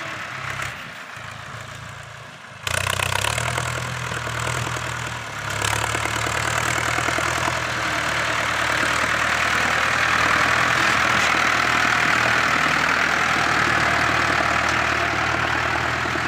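A Ford New Holland 6610 tractor reverses while clearing land of tree stumps, its diesel engine rumbling loud and close, rising sharply in level early on and then holding a steady, heavy drone.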